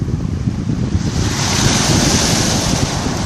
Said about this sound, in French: les micro-ambiances avec les vagues